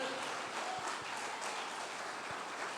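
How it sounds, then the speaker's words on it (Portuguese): Congregation clapping hands during a Portuguese-language sermon, a continuous, moderately loud patter of many hands with occasional sharper claps. "Bata as palmas para Ele"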